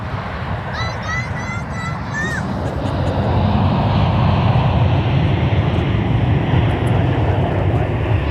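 A fixed-wing airplane lands at MSP Airport in Minneapolis, a loud, broad jet roar that builds and holds steady. Someone speaks over the start of it, alongside a whistle-like sound.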